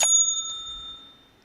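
A single bright bicycle-style bell ding used as a sound effect, struck once at the start and ringing out with a clear tone that fades over about a second.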